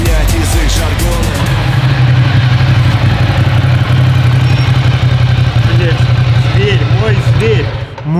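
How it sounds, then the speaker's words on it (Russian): Loud, sustained engine roar from sports cars, a BMW i8 and a Mercedes-AMG GT, holding a steady low drone with revving swells throughout, with people talking over it. "Как ревут моторы, не слышал ничего такого."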